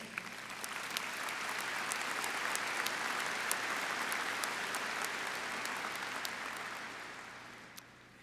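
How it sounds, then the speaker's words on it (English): Sustained applause from a crowd of graduates at a spring college commencement ceremony for education and health professions, steady dense clapping for about eight seconds with a few sharper claps standing out, then fading slightly at the end. "So please give yourselves a round of applause in advance."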